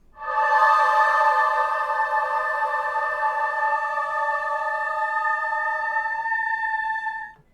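A synthesizer choral preset named women's Ligeti holds a sustained, layered pad of voice-like tones for about seven seconds before the chord thins and fades out, with no talk over it.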